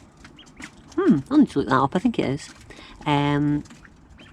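A male quail in a backyard garden gives one short, nasal, croaking call, close and fairly loud, after a stretch of talking.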